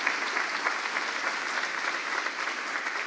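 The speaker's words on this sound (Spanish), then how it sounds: "Aplaudan de vuelta." A church congregation claps together, dense and steady applause that keeps a fairly even level throughout, heard slightly distant and alone without talk.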